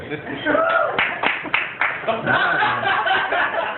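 Scattered clapping from a comedy club audience, a handful of sharp claps and a bit of chuckling mixed with crowd voices, fairly close and brief.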